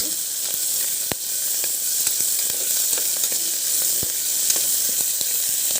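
Green chillies sizzling in hot oil in a pan, a steady close hiss with scattered sharp pops and crackles, no talking.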